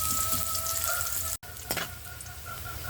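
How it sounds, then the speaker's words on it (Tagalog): Garlic dropped into hot cooking oil for pork steak fries with a continuous crackling hiss, broken by a brief silent gap and a short stir or clatter afterward, close and moderately loud. "Okay, mainit na yung ating mantika. Ihulog na natin yung bawang."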